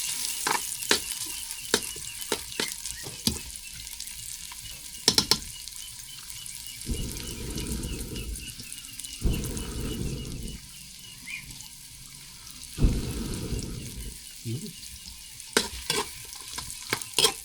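Food frying in a small amount of leftover cooking oil, with a steady close sizzle and repeated sharp scraping stir strokes, plus a few bursts of louder crackling; no talk.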